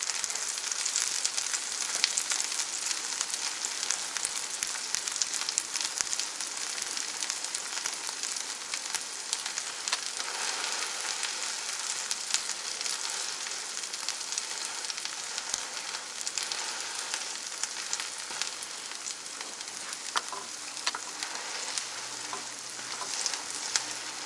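An egg and cheese sandwich frying in oil in a pan, a steady, even hiss and crackle of sizzling that continues unbroken and fairly close, with no voices.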